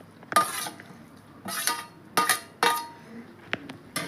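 Mint leaves being pounded in a mortar for a chutney, heard as a handful of separate sharp strikes with a ringing clink, spaced irregularly and close by.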